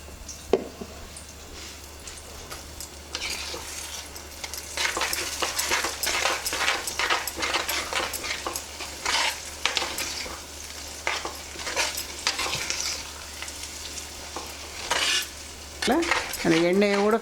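Gongura chutney is fried and stirred in sesame oil in a pan, with a steady close sizzle and repeated scraping strokes of a spoon, and a louder clatter toward the end.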